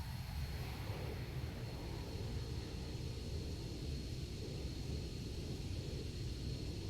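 An A-10 jet flying in the video game Arma 3 gives a steady, faint, low engine drone and rumble with no change in rhythm and no one talking over it.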